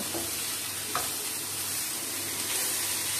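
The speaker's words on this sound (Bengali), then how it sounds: "এটা একটু মিশিয়ে নিচ্ছি আমি" Potato is stirred and mixed with tomato, ginger and coriander in a frying pan: a steady close sizzle with a faint scrape or two, and no talking.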